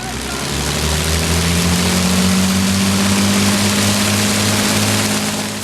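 Four 1,500-horsepower Rolls-Royce Merlin engines on an Avro Lancaster bomber run together in a loud, steady, throbbing drone that holds at full volume without a break.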